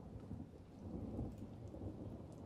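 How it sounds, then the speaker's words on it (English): Heavy rain pours down steadily outdoors, a continuous broadband wash with a low rumbling undertone, fairly faint and even throughout, with no voices. "I realized I could still hear the rain pouring down"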